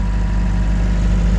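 A Wacker Neuson 901s skid steer's engine idles steadily, heard from inside the cab as a loud, close, even low rumble with a constant throbbing pulse and no voices.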